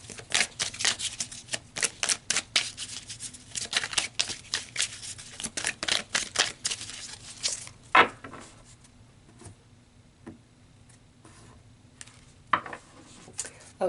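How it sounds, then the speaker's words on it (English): Tarot cards shuffled briskly by hand in rapid riffling bursts, then a few cards pulled and laid down with quieter slaps and pauses, close and alone without talk. "So let's pull a few more cards, Sagittarius, and see what else is going to come out."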